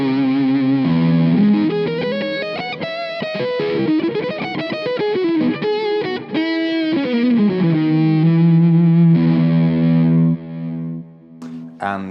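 A Carvin VLD1 electric guitar plays a sustained melodic line through distortion and delay, loud and thick with trailing echoes, with no talking over the playing.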